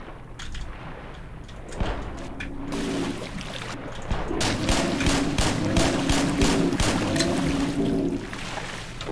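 Rapid gunfire in the video game Black Mesa, a dense run of sharp repeated shots with game effects, loud and continuous through most of the stretch with no talk.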